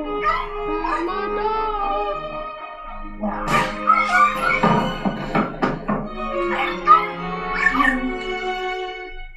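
A dog in the Luigi's Mansion 3 video game whimpers and yips in a loud, close series of high, wavering cries that rise into a dense cluster of short yelps mid-clip, then ease into softer whines.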